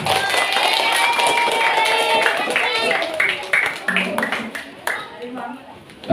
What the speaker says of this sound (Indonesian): Tepuk tangan untuk Ilham.